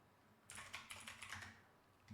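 Quick bursts of keystrokes on a computer keyboard, a run of light clicks at a steady clip followed by a short pause and one more tap, close and fairly quiet.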